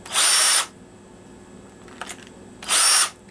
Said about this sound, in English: Countersinking bit here.